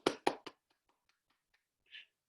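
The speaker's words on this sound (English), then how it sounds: "Let's clap." A few sharp hand claps from a small group in a classroom, three loud claps up front then faint scattered taps trailing off, followed by a brief soft burst.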